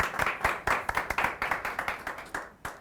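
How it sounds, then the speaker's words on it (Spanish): A small group claps for Eugenia Jonis, a historian, with distinct individual hand claps in a quick, uneven rhythm, close and moderately loud, fading near the end. "Eugenia Jonis, nuestra historiadora, un aplauso para ella"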